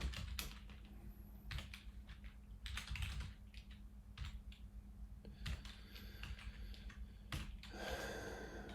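Keys on a computer keyboard clatter in uneven bursts as a short hello world program is typed, close up but soft, over a constant low hum, with a few brief pauses and a breath near the end.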